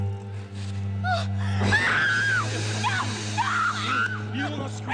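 A woman screams and wails in distress in a dramatic horror scene, her cries rising and falling over a steady low hum and background noise, with gasping, moaning sounds throughout.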